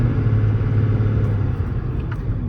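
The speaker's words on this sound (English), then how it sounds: "Plenty of power, tracks nice and straight down the road. Shifts through the gears as it should." A 2017 Ram 5500 4x4 mechanics truck with a Cummins diesel driving down the road: a steady loud low engine rumble and road drone from inside the cab, with no talking.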